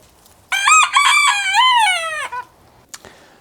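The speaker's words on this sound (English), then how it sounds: "a rooster, Doug, a little bantam rooster that we have, decided that he wanted to be on the video too and started crowing quite incessantly." A small bantam rooster gives one loud, close crow, a long wavering call lasting nearly two seconds, followed by a brief faint cluck in an otherwise quiet space.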